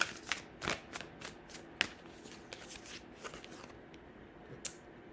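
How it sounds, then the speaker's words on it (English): Tarot cards being shuffled by hand during a psychic reading: a series of quick, papery riffles and flicks in bursts, close and fairly quiet, fading near the end. "Okay, let's shuffle."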